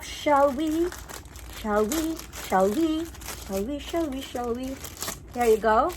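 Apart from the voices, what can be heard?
crinkling packaging while opening a Kate Spade package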